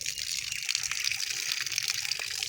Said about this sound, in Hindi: ऐसे ही आ रहा है पानी